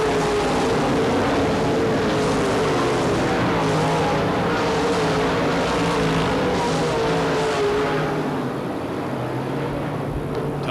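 UMP late model race cars roar continuously around a dirt track in Barberville, Florida, a loud, dense engine drone that swells and fades slightly as the field passes.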